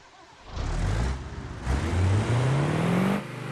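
A medium duty fifth wheel truck engine in the BeamNG driving game revs up in two pushes, the whining drone climbing steadily in pitch the second time before it drops back, heard alone with no talk.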